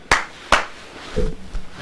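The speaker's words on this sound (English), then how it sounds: "He's clapping." Two quick, crisp hand claps from a wrestler, close and distinct, followed by a faint murmur.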